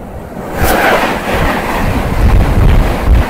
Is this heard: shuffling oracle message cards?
no